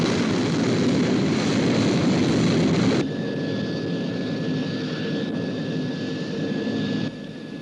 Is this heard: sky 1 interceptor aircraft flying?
yes